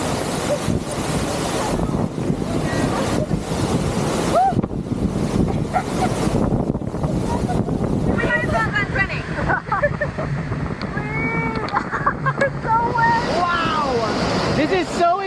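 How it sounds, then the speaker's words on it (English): Constant roaring rush of water from a waterfall close up in Mexico, loud and wind-buffeted, with voices talking and exclaiming over it throughout. "The waterfall looks amazing."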